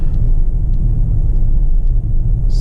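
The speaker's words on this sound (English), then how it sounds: "You can definitely hear how the car burps from the exhaust." A 2020 Mercedes-AMG GT 4-door coupe in race mode driving normally, its exhaust giving a deep, continuous low rumble from inside the cabin with faint pops, loud and steady.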